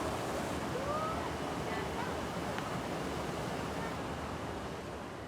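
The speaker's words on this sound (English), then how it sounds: "we create waterfalls and things like that, so that when you come in, you can hear the water" Water splashes and rushes from artificial waterfalls and ponds in a park inside a Thai shopping mall, a steady broad wash of sound at moderate level heard throughout.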